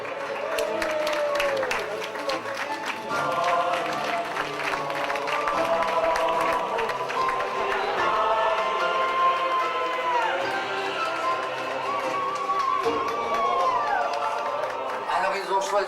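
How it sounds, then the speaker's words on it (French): Wedding guests applaud and cheer the newlyweds at an evening reception, a continuous crowd of clapping and shouts with a voice talking over it and music-like tones running through. "Sous vos applaudissements, chers amis."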